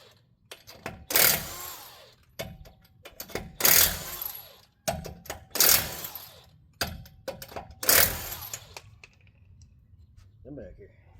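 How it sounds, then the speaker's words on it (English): Lug nuts come off a 1995 Nissan Hardbody truck wheel in five loud, sharp bursts from an air impact wrench, spaced a second or two apart, with quieter clicks and handling noises between them. "we're going to undo the lug nuts from the side"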